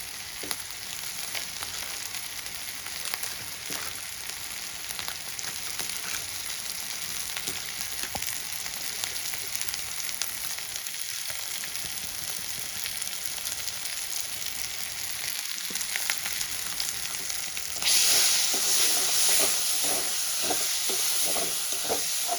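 Pav bhaji frying with Everest pav bhaji masala makes a dense, continuous sizzle and hiss that runs the whole time with faint stirring scrapes. It gets louder and brighter toward the end, heard close and without voices.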